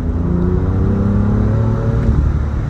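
A sports car engine revs hard under acceleration, a loud, close, steady roar whose tone climbs continuously across the whole stretch with no voices over it.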